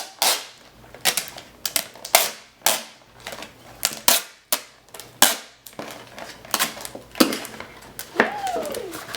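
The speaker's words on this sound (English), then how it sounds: "We're now going to seal around that back part with some tape, and I'm just using packaging tape." Packaging tape is pulled and pressed around a cardboard box to seal it: a series of sharp, crackly rips and taps in uneven bursts, close and fairly quiet, with no talking.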